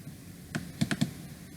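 Mouse clicks on a computer while opening a blank workbook in Microsoft Excel: a handful of crisp, close clicks in a quick cluster, with a quiet room behind them and no talking.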